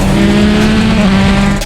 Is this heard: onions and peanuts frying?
no